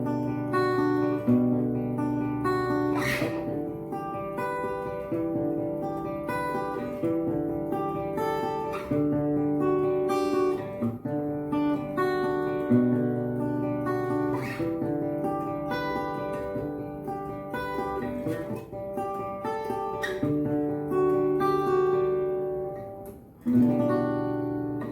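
Guitar notes ring out one after another in a flowing broken-chord pattern, shifting through a slow progression of chords with no talking.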